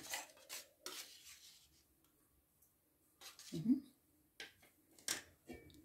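A spoon clinks and scrapes against a container while stirring a little yogurt into fresh farm milk, soft intermittent taps and rubs close by, with quiet speech in between.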